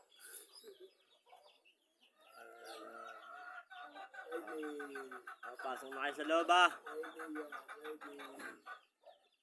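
Several chickens cluck close by, with a person talking over them in short phrases.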